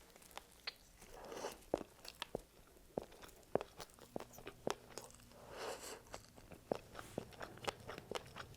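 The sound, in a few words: chewing crunchy fish balls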